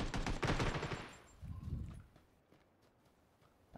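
Rapid automatic gunfire in the video game PUBG, a dense loud burst of shots in the first second, then a softer thud and faint scattered noises afterward.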